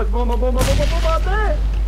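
A single grenade blast in a squad-based video game bursts out mid-clip, loud and brief, while an excited voice keeps talking over it and the game's background noise.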